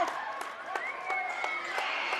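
Crowd roaring and cheering at a Grizzlies hockey game after a hit, a broad steady wash of voices with sharp claps and whistle-like shouts scattered through, an announcer talking over it.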